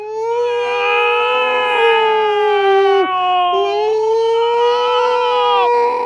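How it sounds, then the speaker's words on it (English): A loud, continuous wailing air raid siren with steady rising and falling pitch, sustained throughout without pause. "the air raid sirens!"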